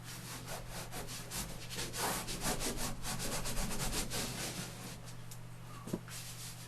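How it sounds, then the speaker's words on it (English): Chalk scrapes across a drawing surface while rounded and jagged rock shapes are sketched. The scratchy, rapid strokes are continuous and fairly faint, and no voice is heard. "I'm going to make maybe a couple of them rounded and a couple of them a little bit more jagged"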